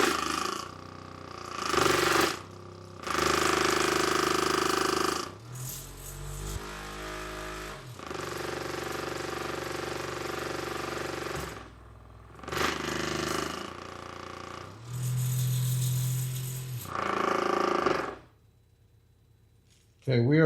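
B2 Audio Rampage8 subwoofer driven with a 16 Hz tone, loud bursts of rattling, buzzing flex noise that start and stop repeatedly, with brief quiet gaps between them and one long silence near the end.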